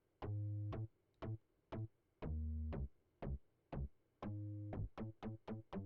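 Deep, round synth bass part from an electronic music track, playing a bouncy pattern of short and held low notes with sharp attacks, quiet and heard on its own.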